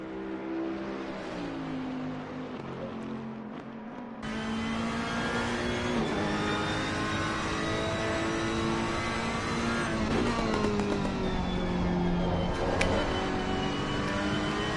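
A 500-plus horsepower Ferrari GT3 race car in a racing video game at Imola, a loud continuous engine drone rising and falling through gear changes, with a sharp surge in revs partway through.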